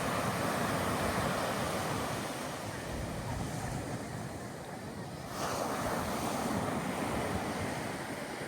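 Ocean surf at an Outer Banks beach on Hatteras Island, North Carolina, with a steady, broad roar of waves breaking and washing in, buffeted by wind noise on the microphone and swelling again near the end.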